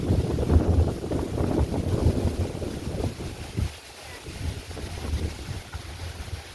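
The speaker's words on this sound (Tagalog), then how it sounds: "Ang lakas ng hangin." Strong wind buffets loudly and unevenly, with gusty rumbling bursts that ease briefly before picking up again.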